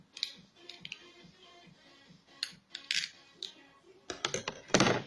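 Scissors widening melted holes in a homemade bird feeder: quiet, irregular snips and crisp clicks close by, coming in small clusters and growing denser toward the end.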